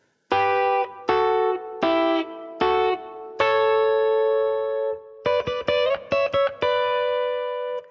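Electric guitar with a distorted tone plays the verse of a song, starting with several sustained chord stabs and moving into quick choppy chords with sharp stops, played alone and close.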